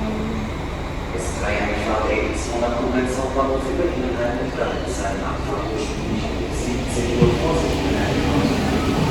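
Rumbling ambience at a railway station while waiting for a train, with a steady low drone, occasional clicks and distant chatter from people nearby.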